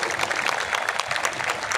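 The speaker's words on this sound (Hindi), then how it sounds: "जोरदार ताली बजा करके साथी का स्वागत करिए।" Audience applause at a Vanchit Samaj Adhikar Chetna Sammelan rally in Mumbai, welcoming a speaker; dense, steady clapping from a crowd filling the whole moment without voices.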